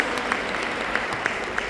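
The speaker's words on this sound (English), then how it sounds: "give yourself a very big round of applause" Applause from a seminar audience at a training event in Budapest, a steady dense clapping wash that fills the short stretch at an even level, with no voices standing out.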